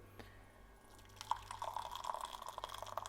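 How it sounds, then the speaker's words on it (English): Boiled water pours into a container, a faint, continuous liquid trickle with small splashy drips building after a quiet start and running on steadily at low level. "I'm going to get this boiled water. I'm going to put it in here"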